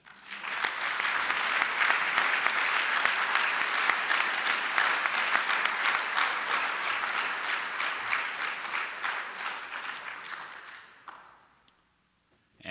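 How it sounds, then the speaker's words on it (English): An audience at an agricultural engineering student design competition banquet applauds steadily for about eleven seconds, a dense close clatter of clapping that fades out near the end. "Let us please give a round of applause to the Platinum sponsors and ASABE for their support of this event."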